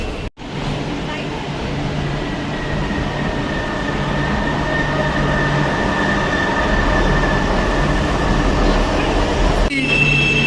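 A metro train running on its line, a loud steady rumble of wheels and carriages with a faint squealing tone, continuous and close, with a brief clunk near the start and another near the end.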